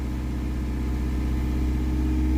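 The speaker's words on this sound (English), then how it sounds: "I'll just give it a couple of revs and see if it does pick up." A BMW 520d diesel engine runs with a steady, low rumbling drone that swells slightly in loudness toward the end, heard close with no talking.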